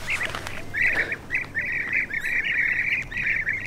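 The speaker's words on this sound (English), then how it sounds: "oh my God, look how many birds" A large flock of birds, ducks among them, calls outdoors along a wooded path, with steady overlapping quacks and chirps forming a continuous chorus for several seconds, fairly close and loud, with no talking.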